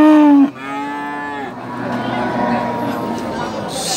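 Simmental crossbreed cattle at the Purwantoro cattle market in Wonogiri, Central Java, give one loud, close moo. The moo fades into steady crowd babble and market noise.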